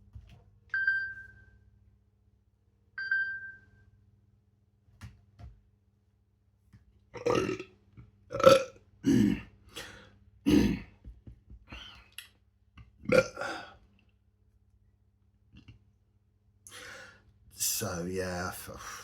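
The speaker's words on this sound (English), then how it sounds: "purging, like spiritual burps, yeah, that's how I move energy." A person burps in a loud, drawn-out series, with belches and gasping breaths coming in clusters separated by quiet gaps. A couple of faint electronic beeps sound near the start.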